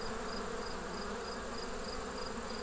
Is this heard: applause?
no